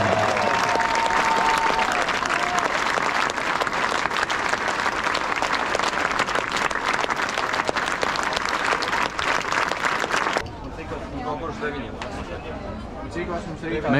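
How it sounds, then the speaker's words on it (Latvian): A large crowd at a Latvian folk dance festival claps in loud, dense, sustained applause for over ten seconds, then it thins into scattered clapping, voices and cheers. "Aplausi!"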